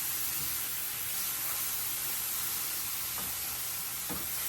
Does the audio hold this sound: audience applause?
no